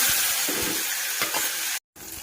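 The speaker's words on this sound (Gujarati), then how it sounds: "પછી કડાઈમાં તેલ નાખી દો, પછી જીરું નાખી દો એમાં થોડુંક, પછી લીમડો નાખી દો" Onions and tomatoes with cumin and curry leaves fry in hot oil in a kadai, a dense close sizzle broken by scraping stirs, cutting out briefly near the end.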